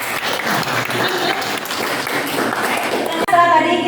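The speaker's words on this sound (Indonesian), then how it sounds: "Beri tepuk tangan." A classroom of students applauds in an agribusiness livestock lesson, a sustained burst of clapping that ends abruptly, followed by a teacher's voice.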